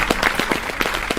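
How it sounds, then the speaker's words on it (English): Audience at a live stand-up comedy game show breaks into applause, a short, dense burst of clapping close by with no talking over it. "Everyone clap it up for yourselves."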